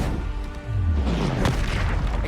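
An Expulso explosion spell in Hogwarts Legacy gameplay goes off as a single loud, close, deep boom with a rumbling tail lasting about two seconds.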